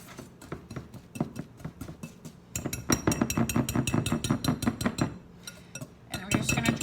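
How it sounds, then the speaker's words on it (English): A rubber spatula mixes oil and sugar in a bowl, making repeated scraping, tapping and clinking strokes in an uneven rhythm, close and moderately loud, with a brief pause midway. "I'm gonna use my rubber spatula to mix it together"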